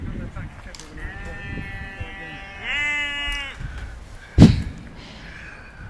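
A sheep bleats once, a long wavering call in the foreground, surrounded by noisy background and ending near a sharp bang; people talk around it.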